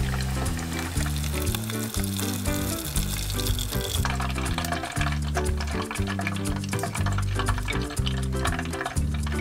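Pork ribs deep-frying in hot oil give a steady, dense sizzle that runs the whole time, with busy music playing loudly over it.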